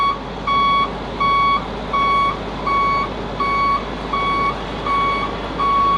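A steady high-pitched forklift reversing beeper sounds eight times in even rhythm over a low engine rumble.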